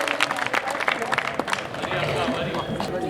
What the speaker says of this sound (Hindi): एक बार इनके लिए तालियां आपकी होनी चाहिए।